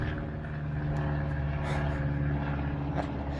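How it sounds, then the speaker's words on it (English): Near an airport, a propeller airplane drones steadily overhead with a low, rumbling engine hum that holds at a constant loudness throughout, with no voices. "We're out here by the airport too, so I get to see a lot of planes fly by."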